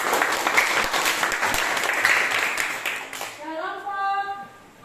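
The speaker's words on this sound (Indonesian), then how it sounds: "Beri tepuk tangan kepada kelompok" Classroom applause for a student group after a presentation on salt making, a few seconds of lively clapping that gives way to a voice speaking with a clear pitched tone at the end.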